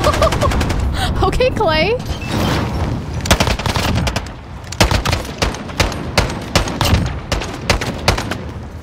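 Rapid bursts of gunfire in a Call of Duty gunfight match, loud and close, with dense automatic volleys and single shots throughout while a person briefly talks over them.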